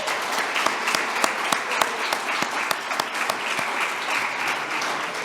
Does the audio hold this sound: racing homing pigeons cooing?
no